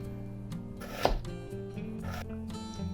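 A knife slices an onion into 5mm slices, giving a few soft cutting taps with one sharper chop near the middle, faint and close under background music.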